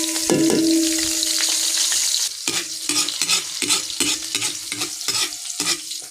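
Small snails cooking in butter in a pan, stirred with repeated scraping strokes over a steady sizzle after an initial loud burst of frying; close and fairly loud, with no talking.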